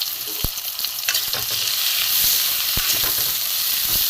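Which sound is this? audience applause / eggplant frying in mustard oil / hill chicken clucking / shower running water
eggplant frying in mustard oil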